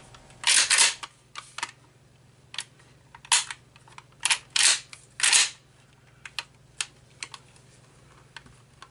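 Mossberg 500 12-gauge pump shotgun cycled through its action on a tabletop: a series of sharp metallic clacks and sliding rattles in irregular bursts, close and crisp over a faint steady hum.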